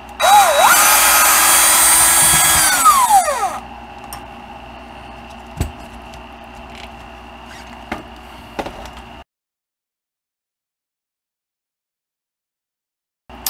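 A power driver whirs in a high rising and falling whine for a few seconds, backing a screw out of the differential assembly on a Redcat Landslide XTE RC truck, followed by scattered small clicks and taps of parts being handled, then silence.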